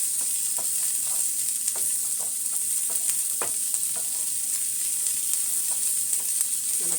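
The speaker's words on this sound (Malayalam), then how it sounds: "നമ്മുടെ സബോള ഇഞ്ചിയും പച്ചമുളകും വെളുത്തുള്ളിയും എല്ലാം ഇത് നന്നായിട്ട് മൂത്ത് വരുന്നുണ്ട്" Onion, ginger, green chilli and garlic frying for a Kerala-style country rooster curry. There is a constant bright sizzle with scattered stirring scrapes and light clicks, and no talk.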